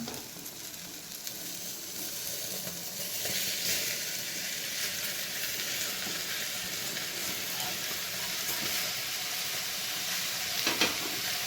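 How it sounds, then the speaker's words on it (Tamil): Tomatoes stirred into sizzling browned onions in a pan for tomato rice, a steady close frying hiss with soft scraping from the stirring and no talk. "தக்காளி சேர்த்து நல்லா கிளறி விட்டுக்கோங்க"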